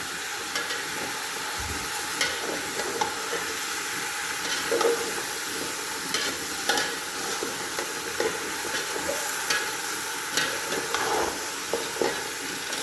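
Pumpkin stir-fried in a pan with tomato and capsicum gives a steady, close sizzle and hiss with light scraping stirs throughout, and no talking.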